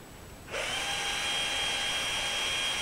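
A drill press spins up after a brief quiet moment and keeps whirring at a steady, high-pitched hum close by while centre drilling an adapter plate.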